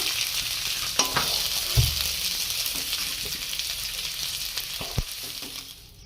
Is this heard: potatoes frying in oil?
yes